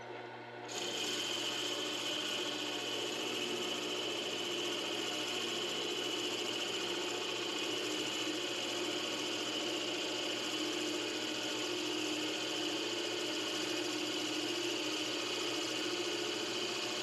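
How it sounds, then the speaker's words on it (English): A power drill bores a hole into red cedar wood for a ring blank, a steady continuous rasping whir that holds an even, close, moderately loud tone from start to finish. "turn them on and bore this way, and that'll leave just about 4 millimeters of wood on the inside of this hole"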